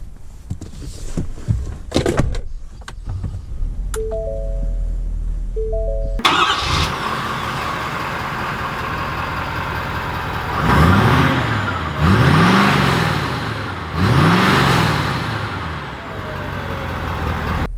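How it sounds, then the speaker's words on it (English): A 2020 Ford F-350 Platinum heavy-duty truck starts up from quiet cabin sounds, its engine catching into a steady idle, then pulls away with three rising revs as it shifts through gears, loud and close from inside. "let's take this F-350 Platinum out to see how it drives."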